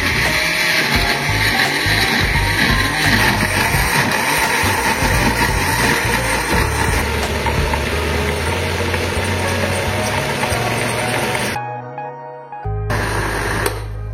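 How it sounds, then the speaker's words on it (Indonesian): A blender grinding spice paste of candlenuts, tomato and shrimp paste for chicken whirs loudly and continuously for about eleven seconds, then cuts off briefly before starting up again. "Karena blendernya nggak muat, jadi kita ini haluskan dulu."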